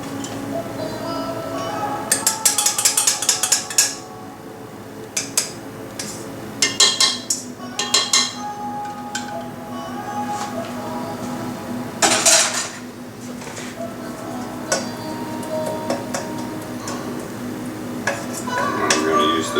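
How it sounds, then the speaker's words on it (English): A utensil clinks and scrapes against a bowl while beaten eggs are mixed into a sugar mixture for banana bread, giving bursts of sharp taps separated by quieter pauses. "these beaten eggs are supposed to be mixed in with this sugar emulsion here."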